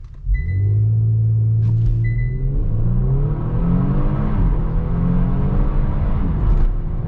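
A 2022 Kia Stinger GT launches with traction and stability control off, its engine note climbing steadily in a loud, close, continuous acceleration with a faint whine alongside.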